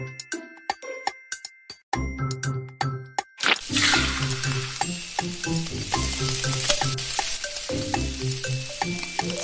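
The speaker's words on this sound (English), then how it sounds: "Tap the handle and flip the pancake." Pancake frying in a pan in the Kiddopia cooking game: bright chimes and dings open, then a steady, fairly loud sizzle takes over, with a few light tinkles scattered through it and no talking.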